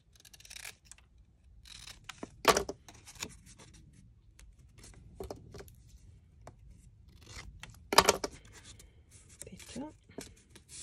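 Scissors trim paper for a craft fold album, with a few crisp close snips and rustles of paper between stretches of quiet, while a person speaks at times.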